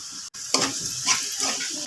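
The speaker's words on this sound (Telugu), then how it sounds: "బాగా కలుపుకుందాం ఫ్రెండ్స్ కలుపుకొని ఒక ఐదు నిమిషాలు మూత పెట్టి మగ్గించుకుందాం" Bottle gourd curry with turmeric, salt and chili is stirred in a pan, giving close, loud sizzling bursts with repeated scraping spoon strokes after a brief cut, no talking.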